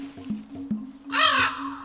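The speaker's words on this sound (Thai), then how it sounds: "อีกามาอีกแล้ว" In a dung beetle video game, a crow gives a loud, harsh caw near the end, preceded by a few soft taps over a steady low game hum.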